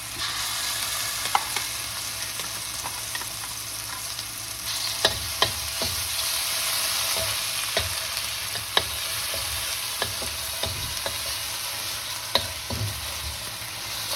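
A ground masala paste fries in a little oil in a kadai for a fish curry, giving a steady close sizzle with scattered clicks and taps of a spoon stirring against the pan, no voices.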